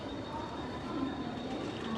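A train stands at a station platform (M1), giving a steady, broad rumbling hum of engine and rail noise that holds level and fairly loud throughout, with no clear voices.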